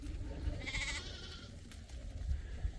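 A single short sheep bleat sounds faintly outdoors, followed by quiet ambient rustling and low background rumble.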